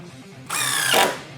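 A DeWALT DCF888 impact driver set to speed 2 drives a 1 5/8-inch drywall screw in one loud, close burst of just over half a second, with no talking.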